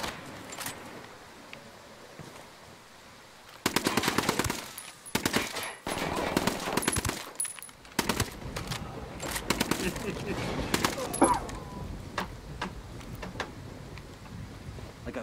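Video game gunfire in Ghost Recon Wildlands, with dense bursts of automatic fire and single shots at varying distances, in loud clusters with brief pauses, while players talk over it.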